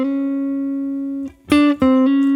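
Clean jazz guitar phrase that circles a target note, with one long sustained tone followed by quick picked and hammered notes, close and clear with no talking.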